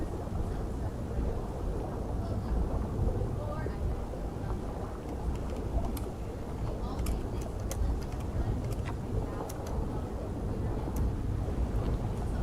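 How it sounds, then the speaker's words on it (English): Wind rumbling above the water surface, muffled and heard from underwater in Path of Titans, a constant low roar filling the whole stretch with faint scattered clicks. "You can tell it's windy when you're underwater and you hear that rumble up top."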